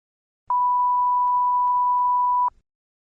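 A single clean electronic beep, steady and unwavering for about two seconds, marks the start of preparation time in a TOEFL iBT speaking test; no voices accompany it.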